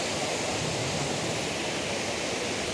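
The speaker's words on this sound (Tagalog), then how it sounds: "This is the Golden Waterfall!" Roaring water of the Golden Waterfall in Taiwan, seen beside a road in winter: a steady, dense, broadband rush that stays loud and unbroken throughout, with no voices.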